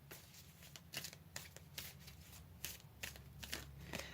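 A deck of cards being shuffled close up, with a series of quick riffling bursts and soft flicks in a quiet room.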